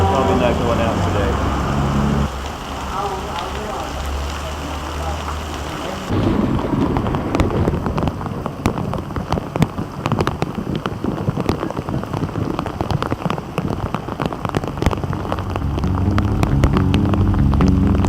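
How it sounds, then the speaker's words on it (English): Heavy tropical downpour pours down in a dense, continuous hiss, with low thunder rumbling underneath and brief crackling bursts; a voice speaks faintly through it. "Heard the term tropical downpour. Well, this is it."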